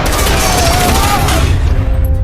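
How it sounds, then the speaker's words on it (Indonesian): A film shootout fills the scene with dense, loud bursts of gunfire. The rapid shots overlap and then cut off sharply near the end. "Sayangnya dalam adu tembak itu para petugas banyak yang tewas."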